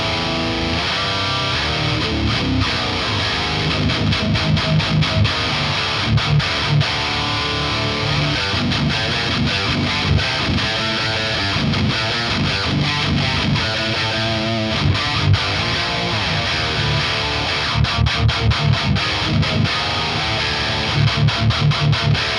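A low-tuned electric guitar played through a Seymour Duncan Powerstage 700 amplifier produces dense, heavily distorted chugging riffs, loud and continuous with rhythmic palm-muted stabs.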